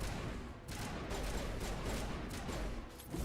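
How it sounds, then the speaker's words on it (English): Rapid bursts of gunfire in the Mass Effect video game, a dense crackling volley of shots repeating steadily for several seconds, loud and continuous with no talk. "What are you shooting at?"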